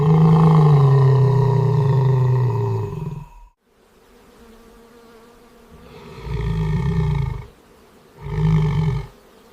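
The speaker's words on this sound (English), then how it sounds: "The lion responds with a low, guttural growl." A lion in the Kgalagadi desert rumbles out a long loud growl, then after a short pause gives two shorter, deep guttural grunts, close and strong against a quiet background.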